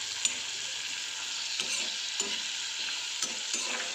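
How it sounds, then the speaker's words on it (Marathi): Broccoli frying in a pan gives a steady, close sizzle, punctuated by several soft scraping strokes as it is stirred at uneven intervals, with no talking. "फ्राय करून घ्यायचं आहे."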